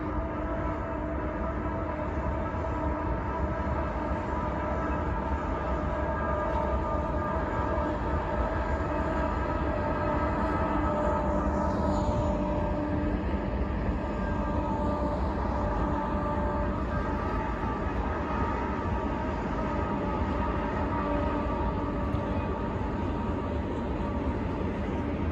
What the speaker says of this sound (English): this panoramic shot of a train passing by below